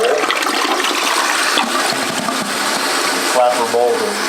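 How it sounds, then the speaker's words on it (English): A 1950s toilet is flushed as its flapper valve lifts, releasing a loud, continuous rush and gurgle of water into the bowl that lasts the whole stretch. "So now when we flush, see the flapper valve come up, lets all the water into the bowl."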